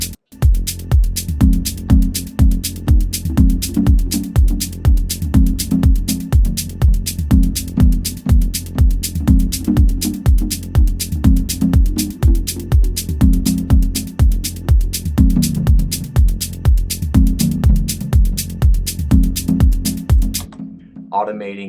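A processed drum pattern with delay added repeats in fast, evenly spaced hits, each followed by echoing repeats that smear into a dense, loud rhythmic pulse with shifting low tones, running alone until it stops near the end.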